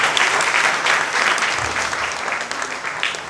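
A hall audience claps together at a spiritual talk, a dense, steady wash of applause lasting several seconds.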